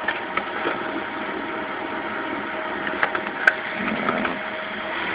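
A printer whirs and grinds steadily with small clicks and ticks, a close mechanical hum as it works through a wireless test confirmation page.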